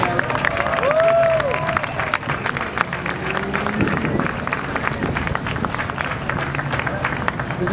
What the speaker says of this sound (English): deserves another introduction and another round of applause